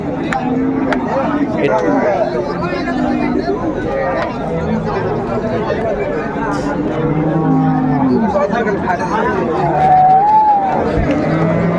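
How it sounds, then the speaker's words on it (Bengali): A cow with her calf at Ambari cattle market in Dinajpur, lowing now and then amid a steady murmur of crowd chatter, with people talking close by throughout. "আমরা দেখছিলাম এখানে একটা গাভী বাছুর"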